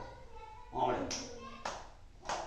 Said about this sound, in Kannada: 3 ಚಪ್ಪಾಳೆ ಹೊಡೆದಿದ್ದಾನೆ.